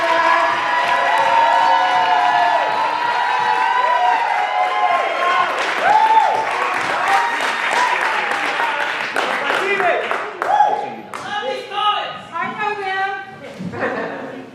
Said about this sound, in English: get some audacious, wonderful, amazing, raucous applause for Team Ghost Spectre